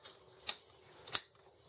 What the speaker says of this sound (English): Click them all into place,